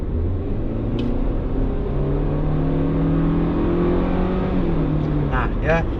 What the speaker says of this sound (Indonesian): Kita pindah ke mode sport. Nah, begitu dipindah ke mode sport langsung RPM naik. Begitu kita gas,